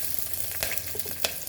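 Curry leaves hitting hot oil for a drumstick potato sambar, a short burst of loud crackling sizzle with sharp pops and spatters, close and alone.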